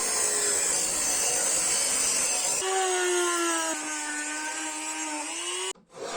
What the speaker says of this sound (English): Rough grinding shape.